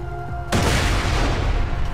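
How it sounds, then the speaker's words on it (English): A thrown grenade in the video game Borderlands 2 bursts suddenly after a short quiet lead-in, a single loud close blast that rumbles and decays with debris for over a second. "Press G to throw your grenades."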